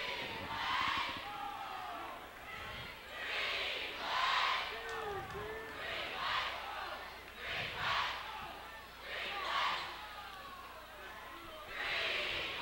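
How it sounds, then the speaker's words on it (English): Basketball game crowd roaring in waves of cheering and shouting in a gym, with swelling bursts of voices rising and falling throughout, loud and close, no clear talk over it. "Okay, the crowd got into it now"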